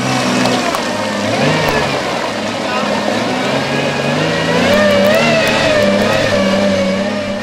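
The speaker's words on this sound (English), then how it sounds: "hearing Doug revving the motor on his vehicle so hard as he is now" A 4WD engine revs hard as the vehicle struggles through a muddy hole, its sustained, rising and falling drone running loud and steady throughout, with people talking over it.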